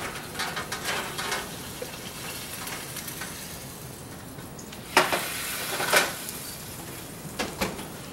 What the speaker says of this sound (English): It's sizzling and delicious.